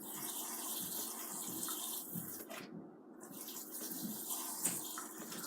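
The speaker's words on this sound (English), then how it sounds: "I'll be adding our purified water." Purified water pours into a homemade juice drink, a steady, close splashing rush with a brief dip in the middle before the flow resumes.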